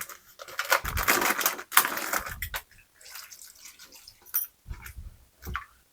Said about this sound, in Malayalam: അപ്പൊ ആദ്യം നമുക്ക് മഷ്റൂമിന് നല്ല 2-3 വെള്ളത്തിൽ കഴുകിയെടുക്കാം.